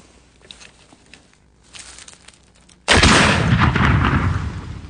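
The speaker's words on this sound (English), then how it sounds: "It's about 75 caliber, fitted with a bayonet, and it's shooting a black powder ball." A British Brown Bess musket of about .75 calibre, fitted with a bayonet and loaded with a black powder ball, fires after a quiet lead-in, giving one sudden loud boom that trails into a long, rumbling roar.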